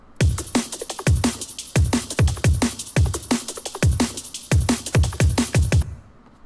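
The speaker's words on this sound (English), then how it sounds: "this drum loop. It's at 174 beats per minute." A fast breakbeat drum loop at 174 BPM with punchy kicks and crisp snares in a quick, steady rhythm, repeating for several bars on its own.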